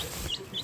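An Ayam Cemani chicken gives two or three short, high chirping peeps, close and faint, over a low background with no voices.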